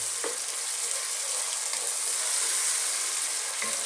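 Chopped ripe tomatoes hit a hot pan for a vegan cauliflower curry, setting off a steady, close sizzle broken by a few soft stirring knocks.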